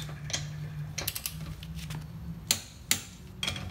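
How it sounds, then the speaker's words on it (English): A torque wrench tightening rear brake parts on a Honda Acura clicks at its set torque. Close, sharp metallic ticks and ratcheting come in an uneven series, with two louder clicks near the end and no talking. "you get to the desired torque, it clicks"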